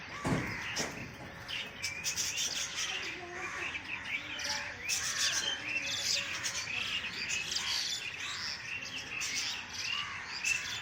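Several birds chirp and tweet at a safari-style aviary setup, busy overlapping calls and short squawks at moderate distance over a soft, continuous background.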